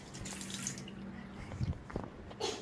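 Water runs steadily from a tap while hands are washed, a soft broadband splashing hiss with a few louder drips and splats toward the end.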